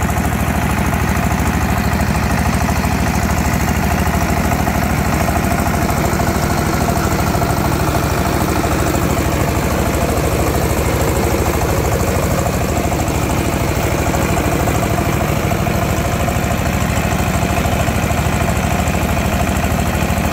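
A mobile rice huller travels between homes in rural North Lombok, its engine running steadily and loudly throughout with a continuous droning rumble and mechanical vibration, no voices.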